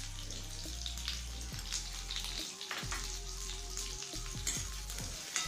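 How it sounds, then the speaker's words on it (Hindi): Onions with ginger garlic paste fry in a pan for rajma: a steady close sizzle and crackle with a few clinks and stirring scrapes, moderately loud, no talk. "हल्का प्याज को भूनना है।"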